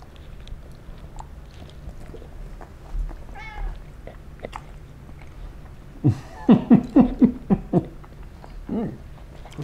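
A cat meows in a quick run of short, close, fairly loud calls at a home table, after a rising meow earlier and quieter eating sounds around it.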